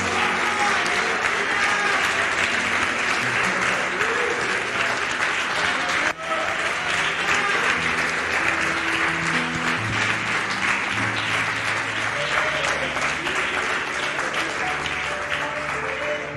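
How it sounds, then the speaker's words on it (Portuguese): Congregation applause at an evangelical church service, sustained loud clapping from a large crowd with murmured voices and a brief break partway through. "Aplauda ao Senhor."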